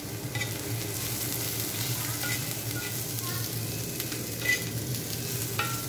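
Chilies frying in a pan: a steady, even sizzle with occasional light stirring clicks, close by and fairly quiet, with no voices.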